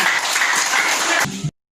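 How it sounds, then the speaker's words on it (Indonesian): A classroom of pupils breaks into dense, steady applause that holds evenly, then thins and stops sharply after about a second and a half. "Tepuk tangan semuanya."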